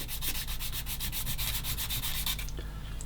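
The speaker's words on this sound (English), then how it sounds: "We're only doing the side, so I will sand on this bit." Rapid rhythmic back-and-forth strokes of a sanding stick rasp steadily on a small plastic scale model tank part, close up, then stop abruptly.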